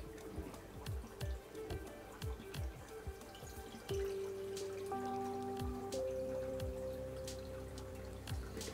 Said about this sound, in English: So try to find the finest net you can and just simply pour the water through.